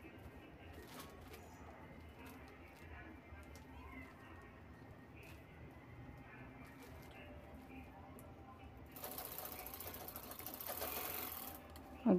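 Sewing machine stitching a one-piece cloth shopping bag, a quiet, steady whir that swells into a louder, faster run near the end.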